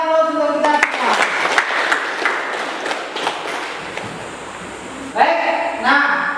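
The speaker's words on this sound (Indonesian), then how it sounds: "Mari kita beri aplaus untuk kita semua." Classroom applause breaks out after a lesson, a dense run of hand claps lasting several seconds from a group of students, fading out before voices return at the end.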